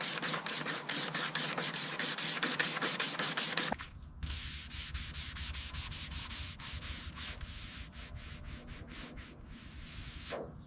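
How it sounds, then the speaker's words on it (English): A long flat hand block sands hardened pink body filler on the wide fenders of a Porsche 911 GT3, a loud close run of rapid rhythmic scraping strokes with a brief pause partway through. "Using a long, flat hand block, we aggressively shave down the hardened pink body filler until it perfectly matches the iconic curves of those wide 911 fenders."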